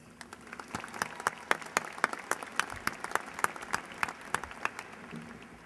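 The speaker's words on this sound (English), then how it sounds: "one final round of applause for all these servants of the university" Applause from a graduation ceremony audience, scattered and individually distinct at first, with separate sharp claps in an uneven rhythm, moderately loud and steady throughout.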